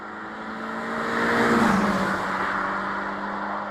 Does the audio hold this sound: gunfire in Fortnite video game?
no